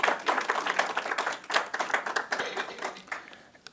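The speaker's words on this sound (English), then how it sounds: "let's give him a round of applause" Applause and clapping from an audience at a women's and girls' empowerment event, a dense continuous patter of many hands that stays steady and then begins to thin and fade toward the end.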